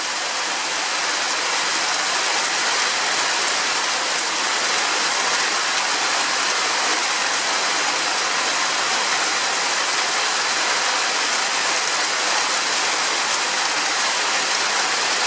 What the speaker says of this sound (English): when we had the 5-day rain, it was like this for 5 days. This intensity, non-stop for 5 days